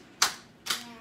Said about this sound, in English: You guys are clapping too fast.